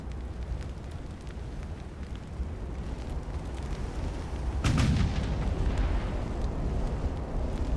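Heavy 11 inch naval guns fire during a warship battle in Ultimate Admiral: Dreadnoughts, a steady low rumble of battle noise building to a louder booming burst midway, with sustained roar after it.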